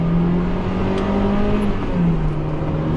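A Mazda MX-5 NB's 1.8 liter engine with variable valve timing on the intake cam, making around 140 horsepower, pulls hard under acceleration, a steady close engine drone that climbs in pitch, eases briefly, then picks up again.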